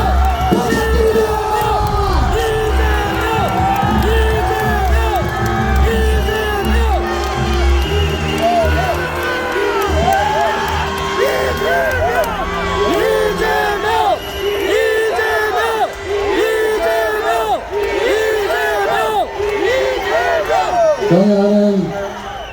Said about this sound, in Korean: 뜨거운 박수와 감사를 부탁드립니다